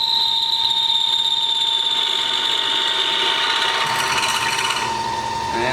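Drill press bit easing into metal: a steady grinding whir with a high, sustained whine, holding level and close for several seconds before a brief rougher scraping swell near the end.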